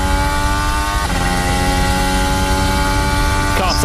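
A Formula 1 car at the Sakhir Grand Prix screams out of the final corner, its high engine note sweeping steadily upward through the gears, loud and sustained, with a faint quick shift near the end.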